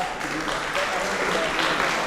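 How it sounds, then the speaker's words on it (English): Audience applause at a children's public speaking contest in Gambia, a continuous wash of clapping from the crowd, moderately loud and even throughout, with no clear speech on top. "Please clap for Hadija to see there."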